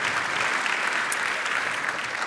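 A studio audience at a stand-up comedy competition show gives a contestant a burst of loud, continuous applause, close and full, lasting the whole moment.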